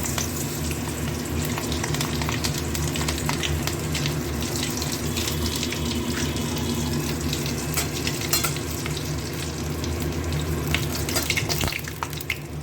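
Green chillies and black cumin seeds tempering in hot oil in a home kitchen pan, giving a loud, steady hiss and crackle that sizzles without a break for about twelve seconds, close up with no one talking.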